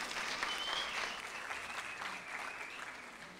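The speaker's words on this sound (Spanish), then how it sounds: "le damos un fuerte aplauso a este equipo" Audience applause for a team at an arts event, a steady wash of many hands clapping, fairly distant and soft, continuous for a few seconds without talk.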